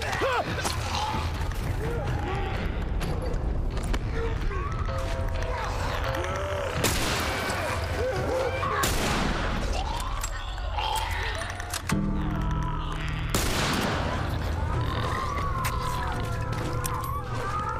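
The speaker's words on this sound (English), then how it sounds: "I'm gonna shoot this little guy. So that he's dead." Gunfire in The Last of Us gameplay: a few sharp shots crack out, spaced several seconds apart, over a constant bed of game ambience and a siren-like drone.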